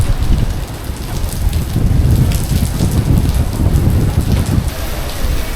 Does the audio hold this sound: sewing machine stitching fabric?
no